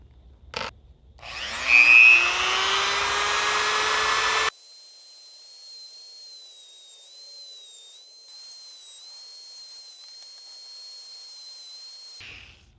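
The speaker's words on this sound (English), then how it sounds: "loading it into the Dremel, and then hitting it with the file and seeing if I can make some serrations" A Dremel spins up to a high whine holding a lock driver pin, grinding noisily as a file is pressed against it for a few seconds, then the tone drops to a quieter, steady high-pitched whir.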